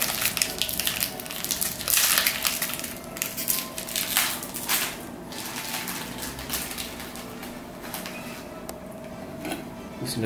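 Oreo chocolate biscuits crunch and crack as they are broken by hand, a series of close, dry snapping and crumbling noises over a steady background hiss.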